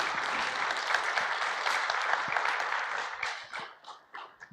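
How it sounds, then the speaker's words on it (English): Conference audience applauding the speakers at an innovation and entrepreneurship event, a dense steady round of clapping that thins out and breaks into scattered final claps near the end. "I would like to propose a round of applause for the excellent speakers"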